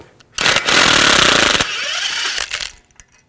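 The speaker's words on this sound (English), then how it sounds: "Now remove the bolt, use a 13mm socket." A power tool drives a 13mm socket to remove a bolt from the front hub of a 2001-2009 Volvo S60, a loud, close whirring rattle lasting about two seconds before winding down.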